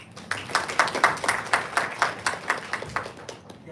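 Scattered clapping from a training-session audience, a loose run of sharp claps with uneven rhythm, fairly near and moderately loud, with no talking over it.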